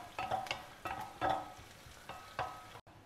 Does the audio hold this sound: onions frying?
yes